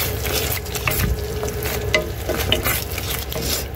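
A chicken dish mixed with ketchup is stirred in a hot pan, giving a continuous sizzle with soft scraping and patter throughout, close and fairly loud.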